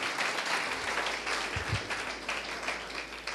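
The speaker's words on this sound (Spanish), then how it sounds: "¿Cuántos aplauden al Señor?" Congregation applauding during a church service, a steady, moderately faint wash of clapping with a brief low thump partway through.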